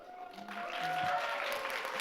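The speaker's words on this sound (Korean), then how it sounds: "열심히 노력한 모든 친구들에게 박수 쳐주시기 바랍니다" Steady applause from an audience at a school completion ceremony, honoring middle and high school students who finished an English novel-reading challenge; the clapping swells after half a second and holds as a dense, continuous patter.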